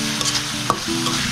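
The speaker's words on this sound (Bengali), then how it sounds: "এখন এটাকে আবারও ভালোমতো কষিয়ে নিতে হবে" Spices for a hilsa fish curry, loosened with a splash of water, are stirred and sautéed in a pan. A soft sizzle plays under brief scraping strokes of a spoon, close up, with no talk.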